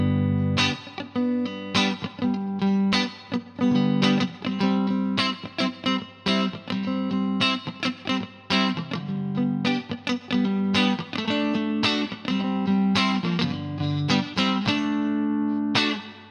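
A Fender Custom Shop '63 electric guitar with '69 pickups plays a lively run of picked notes and chords. The tone is clear and sustained with short gaps, loud and alone for about sixteen seconds.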